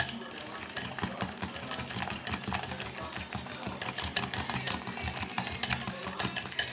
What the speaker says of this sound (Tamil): நல்லா பீட் பண்ணிக்கோங்க.